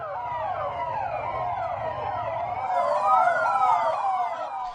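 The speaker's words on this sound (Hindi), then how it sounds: "पूरा इलाका काफी देर तक सायरन की आवाज से गूंजता रहा" Delhi Police vehicle sirens wail continuously while circling Bangla Sahib gurdwara, several overlapping sweeping tones that swell louder midway and fill the area without any talking.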